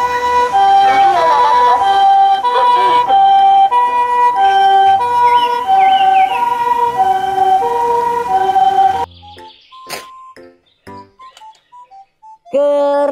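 A toy ambulance plays a loud electronic siren melody of rising and falling tones for several seconds, then cuts to quieter scattered clicks and short electronic tones.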